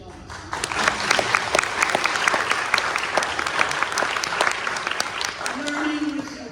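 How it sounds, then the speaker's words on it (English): Audience applause fills a memorial service, a full steady round of clapping from many hands, with a brief murmur of voices near the end. "Now that deserves applause."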